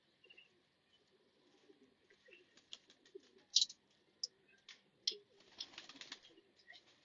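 Soft, low cooing from a high-quality female pigeon kept by a pigeon fancier, rising in short murmured phrases, with scattered sharp rustles and wing flutters mixed through the clip.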